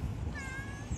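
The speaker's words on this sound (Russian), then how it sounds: "Вот так себя ведут местные коты." A street cat in Tunisia gives a single clear meow lasting under a second, close to the microphone, with no talking over it.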